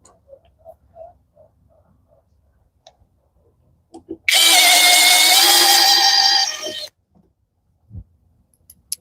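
A power drill whirs loudly for about two and a half seconds, then stops, surrounded by quiet handling clicks.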